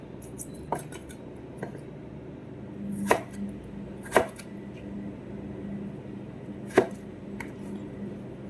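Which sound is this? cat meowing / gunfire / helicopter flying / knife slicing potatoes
knife slicing potatoes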